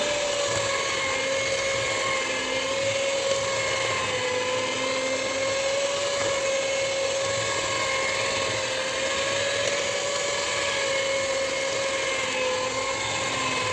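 Electric blender with a swapped blade grinding ketapang seeds, a steady high-pitched whirring motor drone that holds constant for the whole stretch with slight wavering pitch and no speech.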